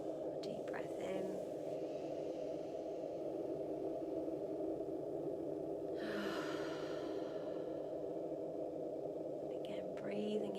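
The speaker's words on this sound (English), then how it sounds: "Deep breath in." During a live spring meditation, a single slow, deep inhale rises softly out of a quiet, hushed room, faint and close, with light breathy sounds around it.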